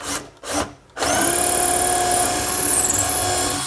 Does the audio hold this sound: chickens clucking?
no